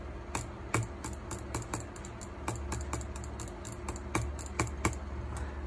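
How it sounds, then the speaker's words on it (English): Logitech G402 gaming mouse buttons clicked in single and double presses, giving a close series of sharp, crisp ticks at an uneven rhythm, some clicks landing in quick pairs, with no talking. "This is single clicking and this is double clicking."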